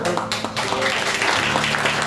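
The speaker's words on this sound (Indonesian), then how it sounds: "Berikan tepuk tangan yang meriah buat Allah kita" Church congregation applauding during a Christmas service, a dense steady roar of clapping over faint music, lasting a couple of seconds.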